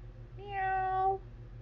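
A single drawn-out cat meow rises and fades over low background hum, fairly close and clear.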